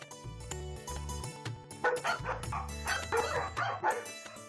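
Several German Shepherds, Labradors and Rottweilers bark on a dog-breeding farm: a loud, close, overlapping chorus of repeated barks and yips with a few whimpers, continuing throughout.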